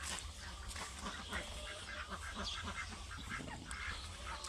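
Faint ducks quack repeatedly in short scattered calls over a low background rumble, somewhat distant, in the early morning.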